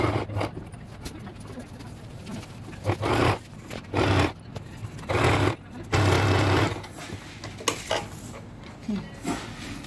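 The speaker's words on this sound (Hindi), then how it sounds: "अब इसको पलटेंगे इस तरह पलट कर इस पर सिलाई करेंगे" A sewing machine stitches a designer blouse in several short bursts of whirring, each lasting about a second, with pauses between, along with light handling clatter and a voice speaking nearby.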